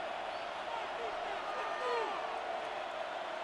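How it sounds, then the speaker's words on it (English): Stadium crowd noise from the Madden 26 American football video game, a steady broad roar of a large crowd with a brief swell near the middle, continuous throughout. "This crowd into it now as we get to third down."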